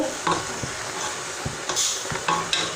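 A boudin pouch simmers in its juices with lemongrass, a steady close sizzle and bubbling broken by a few soft knocks and scrapes of stirring, with no voices.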